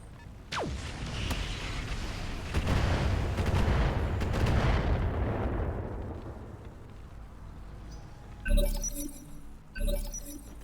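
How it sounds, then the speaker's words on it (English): Missiles from a barrage slam into a mech in the BattleTech video game, a long rumbling roll of heavy blasts with shattering debris, followed by two sharp metallic impacts close together near the end, with no talking. "So that's probably what dropped 50 fucking missiles on my head."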